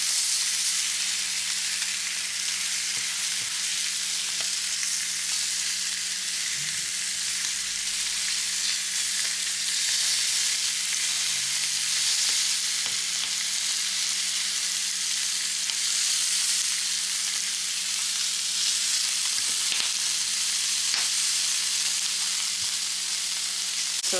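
Seafood cooks shell side down on a grill, giving a steady, even hiss and sizzle that runs close and unbroken throughout with no other sounds and no talking.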